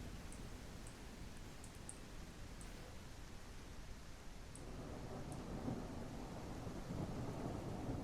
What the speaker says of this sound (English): You're not gonna hear anything in this rain.